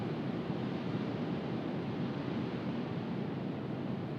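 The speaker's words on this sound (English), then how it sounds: "it's kind of windy out there too" Steady wind gusting through a stadium during a New York home football game in a video game, a continuous broadband rush holding at an even level throughout with no voices.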